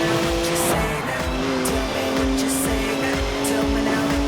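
Steady drone of a twin-turbo 3-litre straight-six car engine in Forza Horizon 4, holding a constant pitch with rhythmic low pulsing and brief high bursts, sustained throughout with no break.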